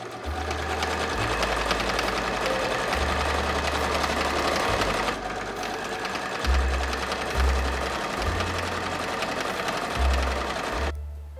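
A sewing machine stitches the shoulder seams of a homemade children's suit, running in a steady rapid whir that stops and restarts several times, close and alone, ending abruptly.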